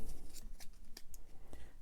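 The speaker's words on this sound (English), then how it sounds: "So let's give these a quick shuffle here." A deck of cards from the Dungeon Degenerates board game is given a quick shuffle, a short run of crisp papery snaps and riffles at close range, with no talking.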